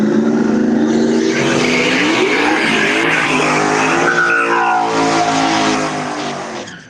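Cars drag racing at a bracket race, loud engines revving hard with rising gear-change pitch sweeps and tire squeal, close at first and then fading as they pull away.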